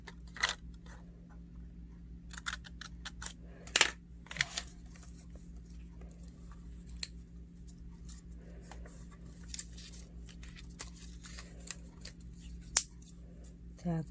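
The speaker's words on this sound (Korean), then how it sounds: "네모 접은 선을 가위로 오립니다" Scissors snip along the crease lines of folded square paper in a children's paper-folding craft, giving a few crisp, close cuts scattered over quiet room tone, with the clearest clusters early and near the middle.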